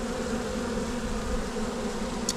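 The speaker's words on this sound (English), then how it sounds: "the bees are everywhere" A swarm of garden bees buzzing steadily and close, a dense continuous drone that holds at an even level throughout with no voices.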